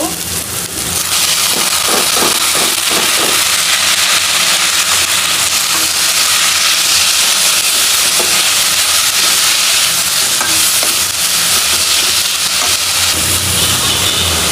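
Bitter gourd just added to hot oil in a pan with onions, making a loud, dense, continuous hissing sizzle that holds steady and close throughout.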